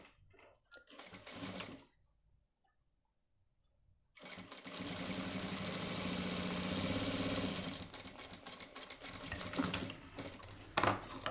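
A sewing machine stitches a shirt sleeve in short runs, a quick mechanical whirring that starts, pauses in near silence, then resumes for a longer steady burst before ending in a few clicks.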